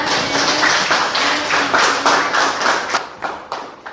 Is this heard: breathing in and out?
no